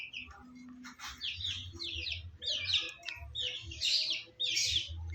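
Young Brahma chicken chicks chirp in a rapid series of bright peeps, fairly close, over a low background rumble.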